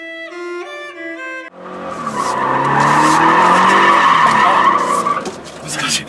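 A Toyota 86/Subaru BRZ drifting, its rear tires skidding in a long, loud, continuous squeal under engine roar, preceded by a brief tonal chime.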